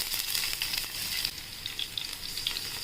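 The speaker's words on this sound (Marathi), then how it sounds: "तेल तापटलं आहे आपलं. आता हिरव्या मिरच्या टाकूया" Green chillies sizzle and crackle in hot oil for a Marathi garlic-fenugreek vegetable dish, a close, continuous frying hiss with small popping bursts and no talking.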